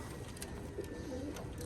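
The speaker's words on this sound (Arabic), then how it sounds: "هذا الحمام يسموه حمام الدرايجون" A Dragoon homing pigeon coos in soft, low throaty bursts, fairly close, over a steady background hiss.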